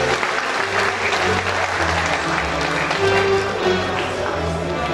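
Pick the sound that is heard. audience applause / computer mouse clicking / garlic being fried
audience applause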